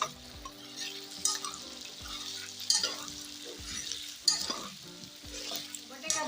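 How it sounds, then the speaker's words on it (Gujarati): Potatoes frying in hot oil over a medium flame, stirred continuously: a loud, steady close sizzle with repeated scraping strokes of a spoon against the pan about every second and a half, no voices. "તો બટેકા તળીએ ને ત્યારે આપણે મીડિયમ ગેસ રાખવાનો છે અને સતત હલાવતા રહેવાનું છે"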